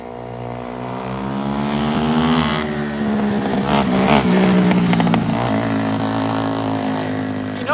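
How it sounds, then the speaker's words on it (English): An engine roars past, its pitch climbing and falling as the vehicle approaches, revs and pulls away, loud and close, with no talking. "You know I gotta have a motorcycle come by."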